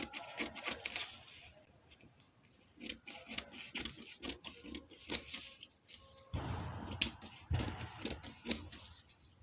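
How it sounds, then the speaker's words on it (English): Scissors or shears snipping through fabric while a cape is cut out for a peplum top, a run of close, irregular clipping and rustling cuts with short pauses between. "We are cutting the cape now"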